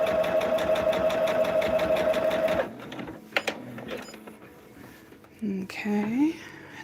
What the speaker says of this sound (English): We're just sewing on the lines, you guys. Just sewing on the lines.